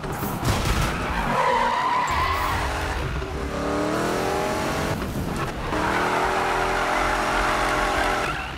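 Ken Block's 1965 Ford Mustang Hoonicorn drifts in Need for Speed (2015), tires squealing loudly in long skids over a roaring engine, in continuous close-up waves of sliding.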